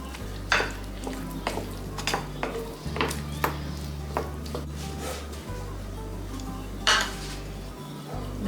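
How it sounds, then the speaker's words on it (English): A spoon stirring a cooked holiday side dish in a pot, with repeated scraping and clinks against the pot over a steady low hum, close and moderately quiet, no talking. "I'm just going to give it a real good stir here."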